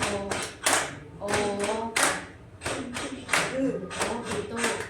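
Hands clapping in a classroom clapping game, a series of sharp, uneven claps at close range, mixed with voices talking and calling out between the beats.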